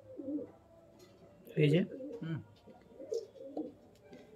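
Pigeons in a loft coo in several soft, close bursts, one louder than the rest, while someone speaks briefly.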